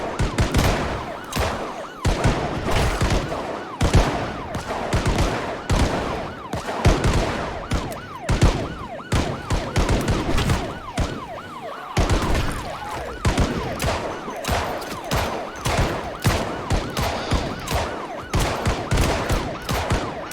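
Fireworks in the video game Project Zomboid crackle and pop in a dense, continuous barrage of rapid bangs, loud and chaotic, with a wailing siren-like tone threaded through the noise.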